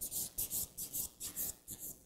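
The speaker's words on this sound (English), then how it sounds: "Now I'm going to buff the nails with my clean finish buffing file." A clean finish buffing file is rubbed over sculptured acrylic nails in quick, even back-and-forth strokes, giving about eight close, soft, hissing scrapes in a steady rhythm.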